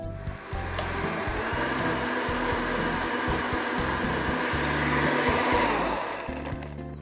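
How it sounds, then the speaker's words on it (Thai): A blender whirs steadily as it purées raw cashews, water and coriander, a loud continuous motor roar that holds for several seconds and then winds down near the end, with no voices. "ใส่ลงไปแล้วก็ปั่นทุกอย่างให้เข้ากันครับผม"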